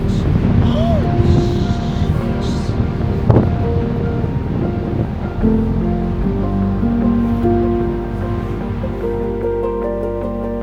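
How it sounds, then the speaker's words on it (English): Huge ocean waves break and roar at Black Beach in Iceland, a loud, continuous wash of surf mixed with heavy wind buffeting the microphone. "I have never seen waves this huge"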